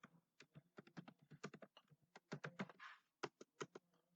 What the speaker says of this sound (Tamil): அட்ரஸ் டைப் பண்ணுங்க கம்பல்சரி.